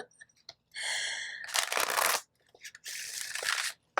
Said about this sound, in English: I'm not usually this bad at shuffling